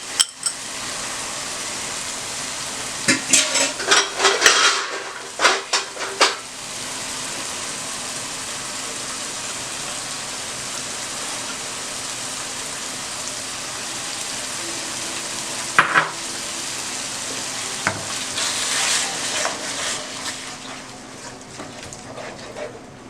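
Spinach and egg curry with whisked yogurt cooking in a pan, a steady loud sizzle and bubbling throughout with occasional sharp clinks and scrapes of a stirring spoon.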